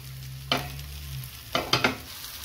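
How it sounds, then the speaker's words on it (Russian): A soft sizzle of a pancake frying in a pan, punctuated by a few sharp scraping and tapping clicks of a utensil against the cookware. "И жарим блинчик с двух сторон"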